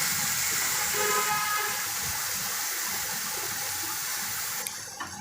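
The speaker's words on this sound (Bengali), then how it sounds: "তেলটা গরম হয়ে গেলে ওর মধ্যে আস্তে আস্তে ম্যারিনেট করা চিকেনগুলোকে আমি ভেজে নেব ভালো করে" Marinated chicken for tandoori kabiraji frying in hot oil on a tawa, a steady close hiss and crackle of sizzling that runs without pause, with a brief clatter near the end.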